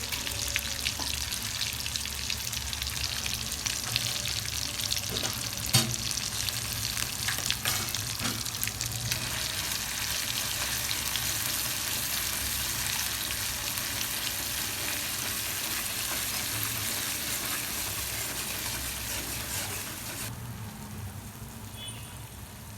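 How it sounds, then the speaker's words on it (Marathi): Steady, dense sizzling of a green chili kharda paste frying in hot oil, continuous and close, with occasional clinks of stirring. "त्याला चांगलं परतू द्यायचं आता या पेस्टला"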